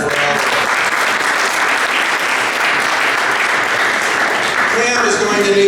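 A rally crowd at a Niles Township Democrats event applauds the candidates, with loud, sustained clapping filling the whole stretch and some cheering near the end.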